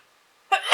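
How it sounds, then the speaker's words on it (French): A single sudden sneeze bursting out of near silence, close and loud, with a sharp onset and a brief forceful exhale. "je crois que je vais éternuer"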